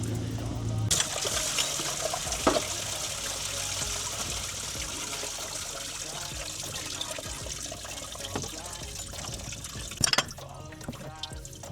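Water gushes and trickles steadily during a water pump replacement on a Volkswagen Golf GTI, a continuous close splashing flow with a few sharp clanks and drips along the way.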